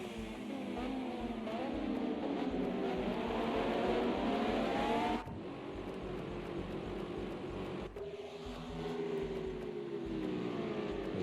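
Stock cars racing around Silverstone in a racing video game, a pack of engines roaring and shifting pitch together, with abrupt cuts between passes and a faint squeal of tyres.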